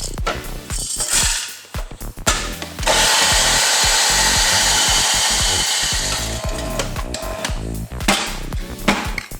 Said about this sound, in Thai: เดี๋ยวเราไปบดกาแฟก่อนเลย